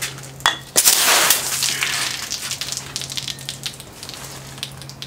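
A freshly opened bottle of nitro stout foams over, starting with a sudden loud fizzing burst that settles into a steady crackling hiss of spilling foam.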